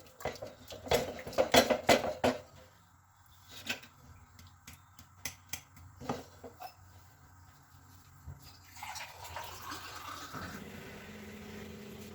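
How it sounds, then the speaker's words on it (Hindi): Water is poured into a cooking pot of thick saag in a home kitchen, splashing and trickling near the end after a run of clinks and taps from utensils and dishes; there is no talking. "मैं इसमें और थोड़ा सा पानी डालकर इसको अच्छी तरह से पका लूँगी"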